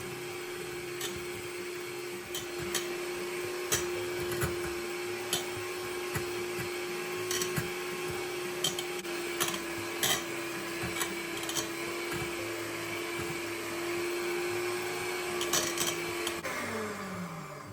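Electric hand mixer beating eggs with sugar, a steady continuous motor whine with faint scraping against the bowl, running alone without any voices for the whole stretch.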